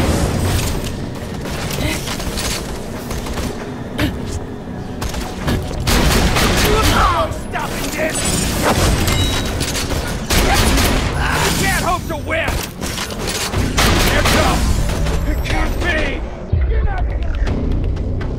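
Game-combat gunfire in Borderlands: The Pre-Sequel, with dense volleys of rapid shots and heavy booms that keep up loudly and almost without pause, mixed with in-game voices calling out.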